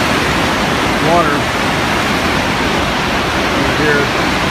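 Heavy water rushing down the Oroville Dam spillway in California during high snowmelt and rain flows, a loud constant roar filling the clip, with faint voices buried beneath it.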